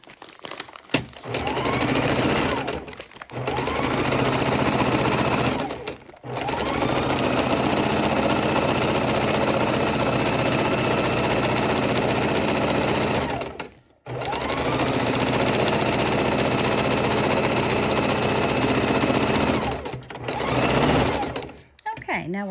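A sewing machine stitches raw-edge appliqué in three long, steady runs of rapid motor whir, separated by brief stops, close and clear.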